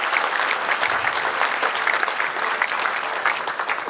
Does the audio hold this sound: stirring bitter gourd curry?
no